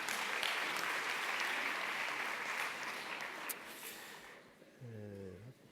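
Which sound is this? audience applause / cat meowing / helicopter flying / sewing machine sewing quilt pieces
audience applause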